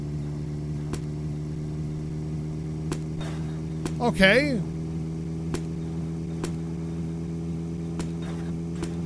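Car engine in The Long Drive video game idles with a steady, low droning hum throughout, briefly rising in a short rev near the middle, while someone speaks a word over it.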